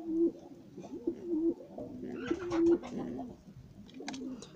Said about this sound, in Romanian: Deci da, aceasta este prima porumbiță.